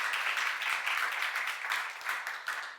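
Church seminar attendees clap together, a moderately loud burst of many hands with a slightly rhythmic pulse that fades toward the end.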